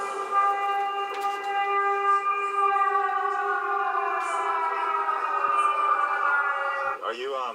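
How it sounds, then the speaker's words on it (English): An air raid siren in Lviv, Ukraine, holds one loud, steady, continuous wail for about seven seconds before it breaks off abruptly at the end. "How do you feel when the siren, the air raid siren goes off?"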